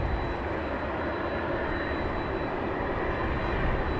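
Aircraft engine noise at night near East Midlands Airport, a steady broad roar holding level and fairly loud throughout, with no voices.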